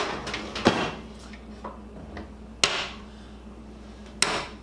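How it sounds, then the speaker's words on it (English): A roll-out pan rack drawer slides back into a kitchen cabinet, with soft rolling movement broken by three sharp knocks spaced a couple of seconds apart, close and fairly loud. "slide it back in the drawer"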